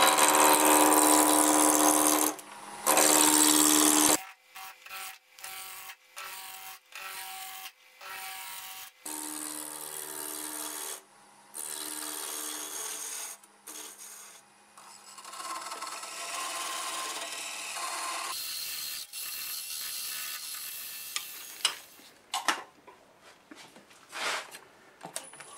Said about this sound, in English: we're turning 1100 RPMs, and we'll just round this end and get it in the chuck